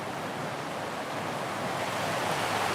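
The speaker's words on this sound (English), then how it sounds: "Looks like it just started pouring down rain here." Heavy rain pours down in the Philippines as a dense, steady hiss of water that holds constant and grows slightly louder, with no voices.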